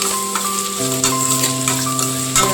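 Vegetables and pasta are stirred in a cooking pan, with a steady sizzle and repeated scraping strokes of the spoon. A constant tonal hum runs underneath, and no one speaks.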